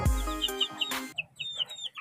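White Kelso chickens cluck in a series of short, faint calls, with a heavier noisy burst near the start that settles into scattered soft clucks.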